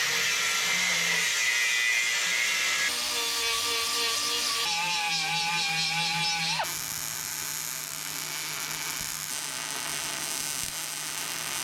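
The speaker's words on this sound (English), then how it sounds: "Take her to the angle grinder real quick." An angle grinder works on a car hitch brace, a high, steady whine that shifts pitch as the disc bites and eases, continuous and fairly close with no talking.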